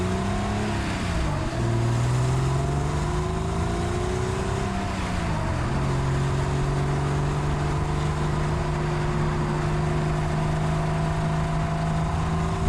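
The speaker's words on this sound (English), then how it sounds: "I'm in a 993 C4S, the sun is shining, I'm on a great road on the way to Moffat" Porsche 911 993 C4S driving on a sunny open road toward Moffat, its flat-six engine droning steadily from inside the cabin, rising through a gear change and settling into a constant cruise.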